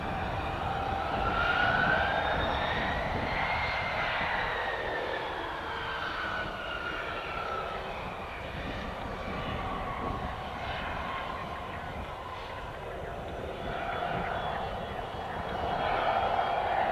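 A Beechjet business jet taking off, a loud sustained turbine roar with rising and falling whine that swells and fades over the whole stretch, with faint radio chatter beneath.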